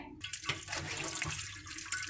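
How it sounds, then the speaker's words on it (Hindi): Curdled milk chhena for rasgulla is washed by hand in water, producing a steady splashing, sloshing wash with brief louder splashes near the start and end, up close with no talk. "7-8 पानी से आपने इसको धोना है इसी तरीके से, 1 बाय 1।"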